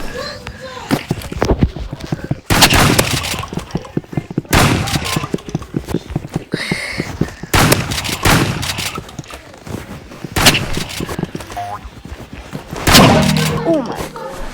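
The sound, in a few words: gunshots from a video game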